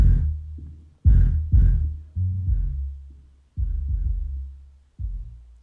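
A Miller and Kreisel VX-7 subwoofer plays bass-heavy test music, deep thumping low notes in uneven pulses with sharp attacks and short decays, loud and close with no voices.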